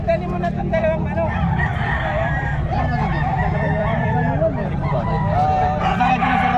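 Several roosters and other fowl crow and cluck loudly at a busy poultry market, overlapping calls close by, with people talking over them.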